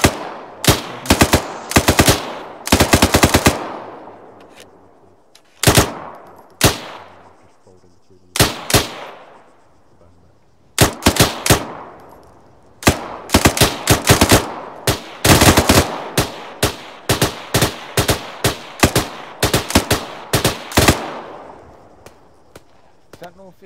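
Bursts of machine-gun suppressing fire in the combat game ArmA 3, set in a winter scenario, come in rapid loud volleys with short pauses between, some longer sustained strings, with voices talking over the gunfire.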